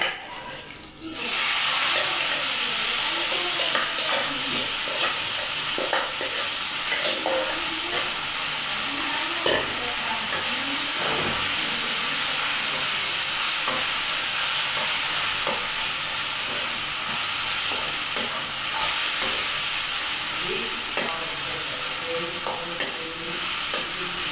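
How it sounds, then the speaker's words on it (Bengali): Leafy greens tempered in hot oil in a home kitchen, a steady loud sizzle and hiss that starts abruptly and runs on continuously with faint stirring clatter. "শাকটা এখন বাগার দিয়ে দিব"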